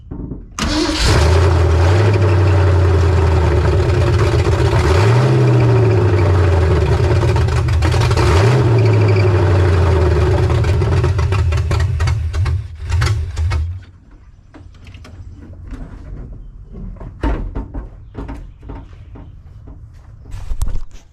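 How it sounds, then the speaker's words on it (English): A 1982 Ford F-150 pickup's engine cranks and catches, then runs loud and rough at idle with a few revs before cutting out, leaving faint clanks and handling noises. "I'm gonna jump in the cab, start her up."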